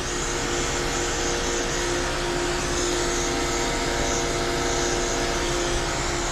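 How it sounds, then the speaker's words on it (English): Dog grooming clipper running with a clipper vacuum attached during a matted doodle's groom, giving a loud, steady whine and airflow roar that holds evenly throughout. "this blade stays cool because of the clipper vac"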